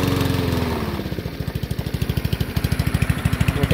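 A Brast lawn mower with a 200cc, 6 hp engine runs close and loud, dropping from a higher whir into a steady, rhythmic idling chug.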